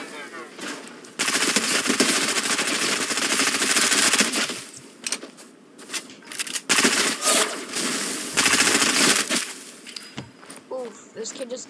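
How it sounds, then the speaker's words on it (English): Submachine gun fire in a shooter video game, several long loud rapid bursts separated by short gaps, with a voice talking intermittently between and over the shooting. "I got a submachine gun."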